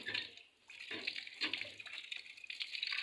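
Water gushes from a hand pump in a home yard while a child splashes and washes his face, a steady near splashing stream with brief pauses and surges.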